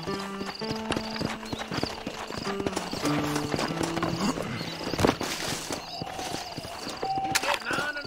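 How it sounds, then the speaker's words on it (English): Horse hooves clip-clop steadily on the ground in the 2010 Xbox game Red Dead Redemption, with a whinny and scattered game sounds, while voices talk over it. "This steed looks right fetchy"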